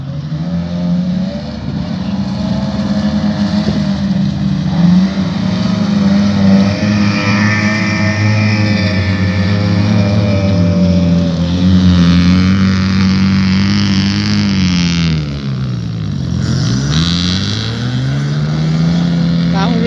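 Cars rev hard while getting stuck on a muddy autocross track, loud sustained engine roars rising and falling in pitch as wheels spin, with someone talking over the noise.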